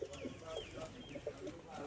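Pigeons coo softly on a rooftop, repeated gentle low calls in quick succession, faint and slightly distant, with a few higher chirps mixed in and light background noise.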